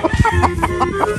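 Close Sweater Boston gamefowl stag at a game farm clucking in a quick repeated series of short, loud calls, with no voice over them.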